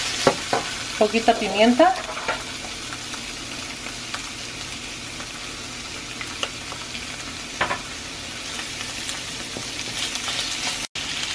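Shrimp sizzle and fry in a pan while being stirred for chow mein, a steady hiss with clatter near the start and a brief spoken remark over it.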